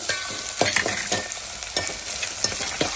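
Onions and browned chana dal sizzle steadily in a hot pan for ragi uppittu, with repeated scraping stirs cutting through the close, continuous frying hiss and no voices.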